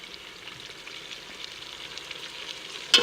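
Tomatoes and chilies fry with lightly browned onions in a pan for a mutton chicken dish, a soft, even sizzle with a sharper clatter right at the end.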